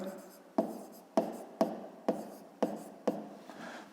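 Chalk or pen writing out a math answer, six sharp taps and short strokes spaced about half a second apart, close and distinct.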